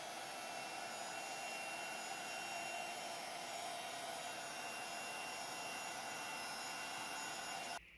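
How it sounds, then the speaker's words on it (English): Heat tool blowing hot air to melt gold embossing powder on a stencilled Christmas card, a steady, even whooshing roar held for several seconds before cutting off abruptly at the end. "So then I can just heat that up with my heat tool."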